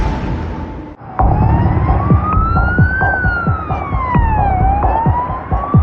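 An ambulance siren wails as it arrives at St. Vincent's emergency department, a loud, close, sweeping tone rising and falling over rumbling traffic.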